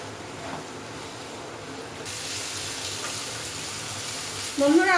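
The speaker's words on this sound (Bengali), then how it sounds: "আদা রসুনটা কাঁচা লঙ্কাটা কষিয়ে নেবো" Ginger, garlic and green chili paste sautéing in a pan for a spicy chicken dish, a steady hiss that thickens midway and ends with a brief sharper sizzle.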